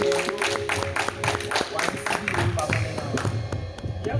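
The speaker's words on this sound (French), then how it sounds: "Applaudis, pasteur Paul." Applause for a pastor during a Sunday church service, with a congregation clapping steadily in a dense, continuous patter alongside a hum of voices and music.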